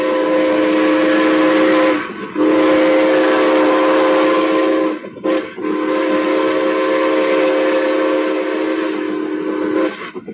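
A steam locomotive's whistle blows in long, loud sustained blasts, breaking off briefly twice before sounding again, with the train's rumble underneath and no voices.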